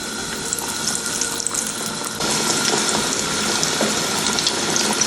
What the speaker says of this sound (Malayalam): ഈ ചൂടായ എണ്ണയിലേക്ക് ഞാനിതിട്ട് കൊടുക്കുകയാണ്